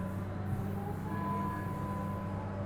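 A train ride in the video game Mass Effect 2, a steady rolling rumble with a faint whining tone drifting above it, continuous and fairly loud, with no voices.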